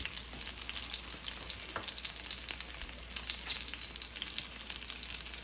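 Chicken seekh kebabs pan-frying in oil give a steady, dense, close-up sizzle with fine crackles throughout, unbroken and without any voices.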